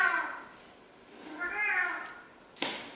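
An elderly, confused house cat gives two drawn-out, wavering meows with a pause between them, close and moderately loud, followed by a sharp brief knock or clatter.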